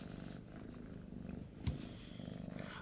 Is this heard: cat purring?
yes